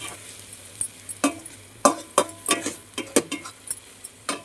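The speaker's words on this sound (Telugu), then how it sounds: "దీనికి కలుపుకుని బాగా వేయించుకోవాలండి" Eggs fry in a pan with a light sizzle while a spatula stirs and taps them, giving a quick irregular series of close clacks and scrapes over the frying hiss.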